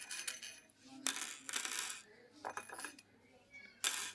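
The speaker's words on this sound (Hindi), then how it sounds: "इसने एक बाउल में स्मॉल बटन डाले हैं और दूसरे बाउल में बिग बटन्स डाले हैं" Small plastic buttons dropped one by one into a bowl during a child's sorting-by-size activity: a few sharp clattering clinks at irregular intervals, close by, with quiet gaps between.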